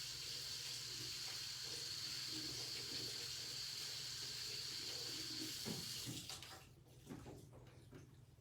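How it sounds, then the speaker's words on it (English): Tap water runs steadily into a sink to rinse paint off stamps, a loud constant hiss that cuts off near the end, followed by faint clatter. "I'm gonna have to rinse these off quick"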